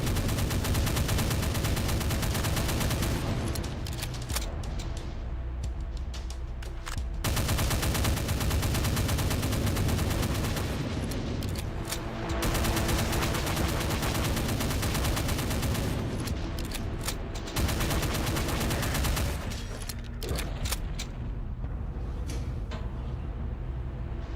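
Rapid gunfire from the shooter Doom II, with dense bursts of shots and heavy low rumble running almost continuously, loud and close.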